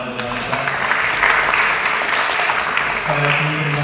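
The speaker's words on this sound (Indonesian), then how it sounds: "tepuk tangan untuk Nisa" Audience at a school education event applauds a student, a broad, steady wash of clapping with a voice partly audible over it near the end.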